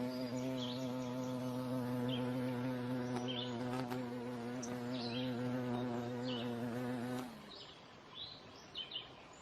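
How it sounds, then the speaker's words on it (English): A carpenter bee drilling holes in wood gives a loud, close, steady buzzing drone that runs for about seven seconds and then stops abruptly, leaving a quieter background with a few faint chirps. "So carpenter bees, they drill holes in the wood,"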